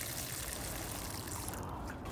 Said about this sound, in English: So just fill up the hole with a little water